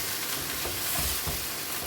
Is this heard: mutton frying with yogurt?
yes